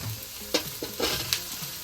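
Capsicum frying with ginger garlic paste and green chilli in a pan for spicy chicken chilli, a steady close sizzle broken by a few sharp scraping stirs, with no talk.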